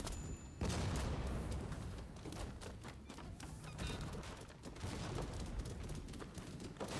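Rapid gunfire from a firearm in Rise of the Ronin, a dense burst of shots and thuds running steadily through the whole stretch with little pause, loud and close with no talk.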